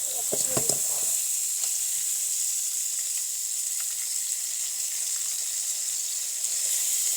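Sausage sizzles steadily in a pan, a continuous bright crackling hiss with a few clinks at the start.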